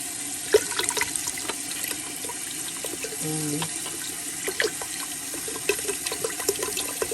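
Water pours steadily into a cooking pot of paksiw na pata, pork hock stew, giving a continuous splashing rush with scattered clinks and bumps throughout.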